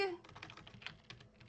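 Keys clatter on a computer keyboard in quick irregular bursts, close and fairly quiet, with a faint voice murmuring at the start.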